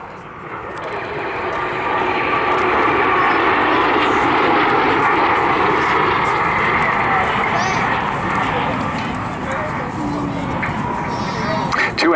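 A pair of BAC Strikemaster jets flies in at a seaside airshow with headlights on, a loud steady roar of engines building and holding throughout, with an announcer speaking over it.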